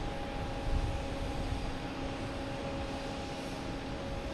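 A FedEx Airbus A300-600F cargo jet at Boston Logan Airport, heard as a steady, even engine drone with a faint whine, moderately loud and unchanging throughout, with no voices.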